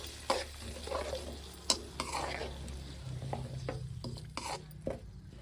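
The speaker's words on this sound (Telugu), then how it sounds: "బెల్లం యాభై గ్రాములు ఈ రెండు అయితే మంచిగా కలుపుకోవాలి" Tamarind pulp and jaggery being stirred together in a pan for a bitter gourd pickle, with scattered spoon scrapes and knocks against the metal over a soft simmer, close and quiet, no talk.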